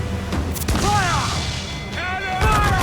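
Pirate ship cannons firing during a naval battle in the game Assassin's Creed IV Black Flag, loud booming blasts in quick succession, mixed with shouted crew voices and game sound.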